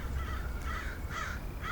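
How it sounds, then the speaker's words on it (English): Several crows caw in the treetops, harsh repeated calls arriving in bursts over a steady outdoor background, fairly near and clear with no talking. "the calling of the crows began in the treetops"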